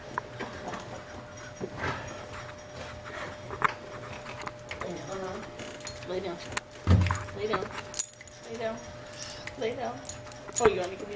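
A beagle whimpers and whines in soft, scattered bursts indoors, mixed with faint jangling and small handling noises, while a person talks intermittently over it.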